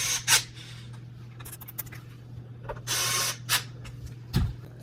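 Small screws being driven to secure top fans in a Lian Li O11 Dynamic Evo XL PC case, heard as a few short creaking, ratcheting turns with brief gaps, close and fairly quiet over a steady low hum.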